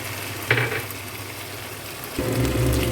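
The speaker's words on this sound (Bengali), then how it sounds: "এই যে মশলাটা সুন্দর করে ভেজে নিচ্ছি।" Spice paste mixed with poppy seed paste sizzles steadily in hot oil for a rohu fish dish, a soft constant frying hiss with a brief stir near the start and a louder surge of sizzling toward the end.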